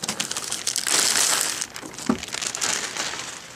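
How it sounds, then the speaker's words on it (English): A Sharkoon Xtatic SR surround headset box pulled out of its plastic wrapping, close crinkling and crumpling in bursts with a short pause midway, no talk. "Here is the box, and it's actually in a plastic, so let's pull it out of the plastic."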